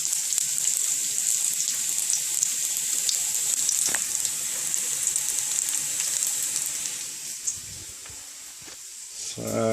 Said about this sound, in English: our garlic and toasted sesame oil coming along nicely in the wok there